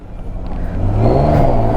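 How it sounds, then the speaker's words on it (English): A 660 cc tuk-tuk engine in Thailand revs up as a ride begins, the motor note climbing and growing louder over a couple of seconds, close by. "So here we go, the tuk-tuk ride."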